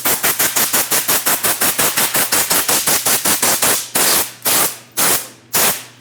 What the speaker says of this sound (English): For this, I'm just going to use some compressed air.